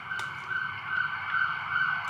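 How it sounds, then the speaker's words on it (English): An ambulance or police siren wails outdoors in Singapore, a steady high-pitched tone at moderate distance, alone without talk. "Ambulance? Police?"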